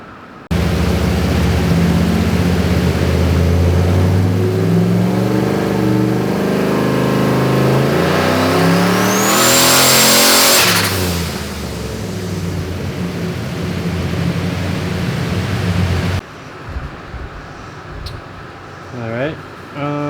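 A Foxbody Mustang engine running a Holley Terminator X roars loudly and climbs in a long, rising rev to a high peak, then falls back and cuts off, leaving a quieter stretch with faint background noise.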